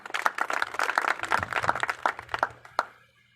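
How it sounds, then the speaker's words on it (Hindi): Scattered hand claps from a small group at a farmers' gathering in Rewari, India, uneven and sparse, fading out after a few seconds. "एक बार आप लोगों के लिए जबरदस्त जोरदार से तालियां होनी चाहिए"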